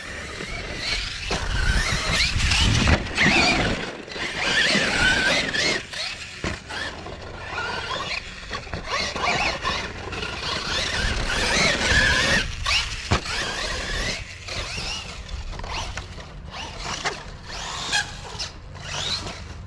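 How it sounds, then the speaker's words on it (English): An RC car tire, a lightweight JConcepts Renegade or Pro-Line Demolisher, spun by hand on the car, giving a continuous whirring squeal that rises and fades in repeated close bursts. "it definitely feels like a lighter tire when you're spinning it like that"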